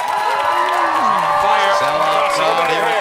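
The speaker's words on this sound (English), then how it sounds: "Sell out crowd here at Turner Arena." A sell-out crowd roars and cheers at Turner Arena, dense and sustained, while a voice talks over the noise.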